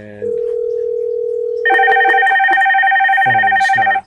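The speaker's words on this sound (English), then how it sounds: "phone starts ringing" Aastra office desk phone started by an auto dialer: a long steady tone first, then a loud electronic ring pulsing in a repeating pattern, close by, with a voice briefly audible alongside.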